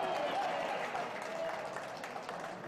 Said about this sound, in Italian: Adesso sale il tifo per le maglie bianche.